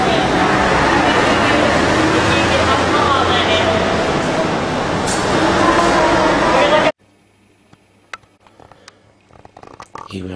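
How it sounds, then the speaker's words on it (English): Airport limousine bus ride at Tokyo Narita, a loud, steady engine and road rumble that cuts off abruptly after about seven seconds, leaving faint scattered clicks and noises. "Airport limousine bus."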